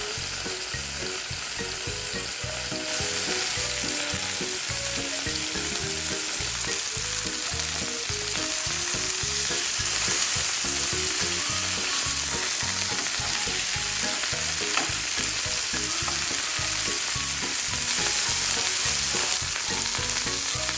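Chicken pieces fry in a pot with only a little oil for one-pot chicken rice, giving a loud, steady sizzle with crackling pops that carries on throughout.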